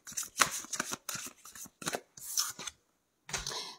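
Lenormand fortune-telling cards being shuffled by hand in repeated quick riffling bursts, close and crisp, with a short pause before a final shuffle.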